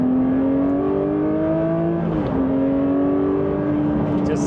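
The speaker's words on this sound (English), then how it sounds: "So on the way down, I'm actually rev matching or heel and towing myself." Porsche 911 S/T engine with a light flywheel revving while driving, a loud, close in-car engine note rising in pitch, dipping sharply on a downshift blip, then climbing again.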